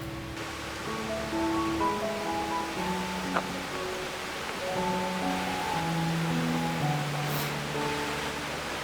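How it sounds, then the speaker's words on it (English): Steady gentle wash of a lush stream flowing under a bridge in Seward, Alaska, with soft tonal notes drifting above it throughout. "Nice relaxing stream that eventually comes and flows under this bridge."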